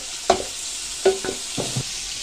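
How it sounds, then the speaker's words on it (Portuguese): Onion and bacon fry in a little oil, a soft steady sizzle broken by a few short scraping stirs, close by, no voices. "Coloca a cebola para fritar junto com o bacon."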